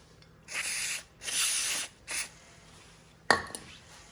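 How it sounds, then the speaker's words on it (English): Three hissing bursts of aerosol cleaner sprayed on a small snowblower engine during a valve job, the middle one longest, followed by a sharp knock and faint rustling in a quiet room. "And go ahead and spray it again."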